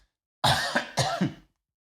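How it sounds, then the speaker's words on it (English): Two harsh coughs, close and fairly loud, each a short throaty burst with a rough tail, separated by a brief pause, then silence. "He says coughing at the thought of it."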